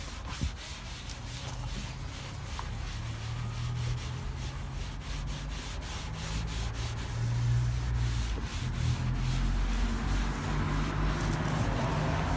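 A microfiber cloth rubs over parts in a car engine bay, making a continuous close, soft rubbing and swishing sound with quick repeated strokes against a low background hum.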